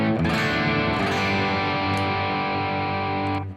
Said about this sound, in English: the Black Op giving you a classic distortion sound